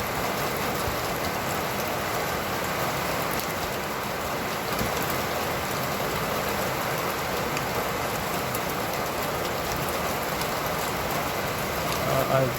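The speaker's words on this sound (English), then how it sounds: "it's been raining all day like this" Steady rain falls on a busy street on a wet afternoon, a constant broad hiss of drops and spray that stays even throughout and sits close and loud.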